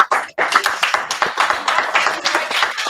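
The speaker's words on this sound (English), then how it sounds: "let's give them a round of applause" A small audience at a live sports show gives brisk, close hand clapping for congratulated guests, a dense burst of claps lasting a few seconds.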